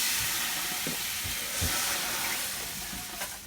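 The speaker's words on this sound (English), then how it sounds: "I like searing my pan because it gives my food a little bit of a taste" A hot pan sizzles and hisses while French toast cooks, a steady broadband hiss with a few faint clicks and pops, no voices.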